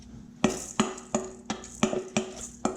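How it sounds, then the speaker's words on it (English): A spoon scrapes a rice mixture of beef and crab into an iron kamameshi pot, making a close series of about eight sharp metallic taps and scrapes at a steady rhythm, with no talking. "now let's add the rice mixture to our pot"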